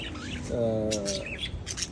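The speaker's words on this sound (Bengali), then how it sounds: "এগুলি পাখি এবং কবুতর" Pet birds and pigeons kept in a rooftop garden give a short burst of chirps and tweets, with one longer harmonic call in the middle, nearby and moderately loud with no talk.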